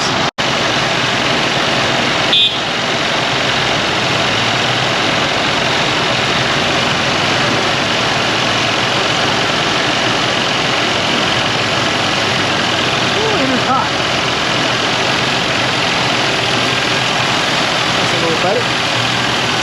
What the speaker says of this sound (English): Now we'll shut the air off, see how it idles.